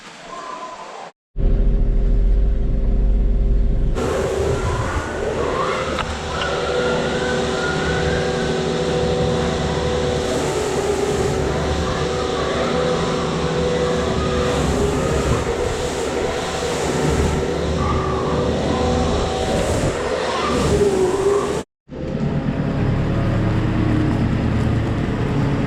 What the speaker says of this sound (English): That's a good tractor, this really is.